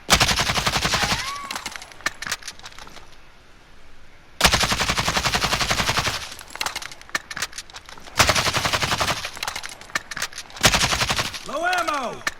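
An AK74 rifle in Modern Warfare fires in several long full-auto bursts, loud and close, with short quiet gaps between them and a faint ricochet-like whine after some bursts.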